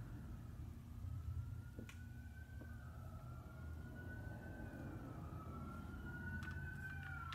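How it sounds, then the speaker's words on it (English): Faint, distant emergency sirens wail with slowly rising and falling tones over a steady low background rumble of traffic, broken by a few soft clicks, with no voices. "Here we go again, sirens"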